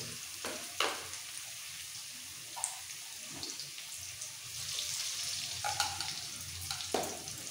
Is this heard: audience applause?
no